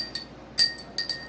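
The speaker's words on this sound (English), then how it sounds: "And then I stir it." A spoon stirs fruit juice powder into water in a glass, making a few light, bright clinks against the glass in quick succession.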